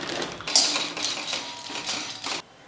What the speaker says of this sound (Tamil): இப்போ இங்கே ஸ்டவ்வில் ஒரு கடாய் வச்சுருக்கேன். மல்லாட்டையை சேர்த்துடலாம்.